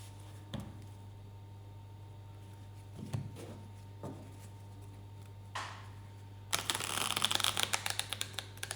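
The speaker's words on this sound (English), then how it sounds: "So let's shuffle the cards again." A deck of cards being shuffled, with sharp isolated riffles and taps followed by a rapid fluttering burst of card clicks near the end, close and quiet against a low steady hum.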